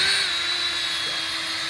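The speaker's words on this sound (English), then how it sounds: "Then we're going to start this hole with the 1/8" drill bit." A power drill with a 1/8 inch bit, oiled and run at slow speed, bores into a heavy-duty portable RV waste holding tank, giving a steady high whine and grinding hiss throughout.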